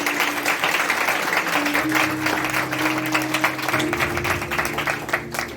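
A congregation at a Hindi-language Palm Sunday church service breaks into loud, sustained applause, a dense wash of clapping over a steady low hum that lasts the whole stretch.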